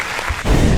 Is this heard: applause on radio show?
yes